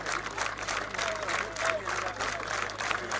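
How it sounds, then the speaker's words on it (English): A rugby stadium crowd gives a sustained round of hand clapping in tribute, heard at a distance as a dense, even patter beneath a commentator's talk. "that 1 minute hand clap you hear from the grounds at Makere"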